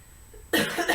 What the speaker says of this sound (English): if you hear me coughing and spluttering, my apologies.